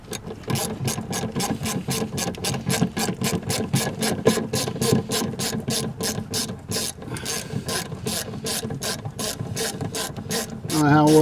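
A ratchet turns a 10 mm bolt on a 2008 Ford F-150 during a serpentine belt replacement, giving steady, rapid mechanical clicking close up for about eleven seconds, with no talk.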